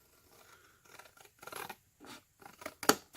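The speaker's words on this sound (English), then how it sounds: "So I'm cutting down one line and those 2 together" Scissors cut through a cardboard box, producing a series of faint, separate crunching snips and scrapes spread unevenly across a few seconds, with one sharper, louder cut near the end.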